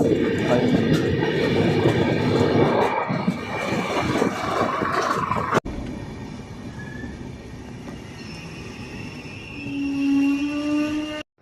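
Danapur–Koderma Intercity Express pulling out of Jethian railway station in Bihar, heard from aboard: a heavy rumbling roll with rising wheel noise, then a quieter, steadier run with faint squeals and a tonal hum, a voice briefly talking over it.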